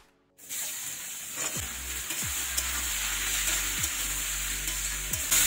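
Gourd pieces fry in hot oil with bay leaves and cumin for a Bengali lau chingri, giving a loud, steady sizzle from start to finish, broken by a few soft scrapes of stirring.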